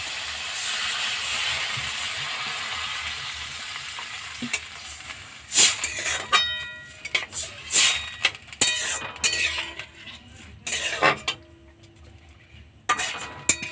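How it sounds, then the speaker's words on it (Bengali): Vegetables for momo soup sizzle and fry in a pan, a steady hiss at first giving way to clattering stirring strokes and scraping that come in irregular bursts, close and fairly loud with no talk. "সামান্য একটু নাড়াচাড়া করে আমি এবারে এতে একটু জল দিয়ে দেবো"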